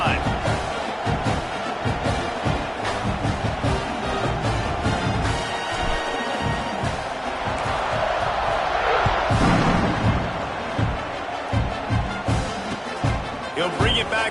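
A college football stadium crowd roars steadily after a touchdown drive as the kickoff unit takes the field, dense cheering filling the whole stretch with a swell near the middle, with a commentator's voice running over it.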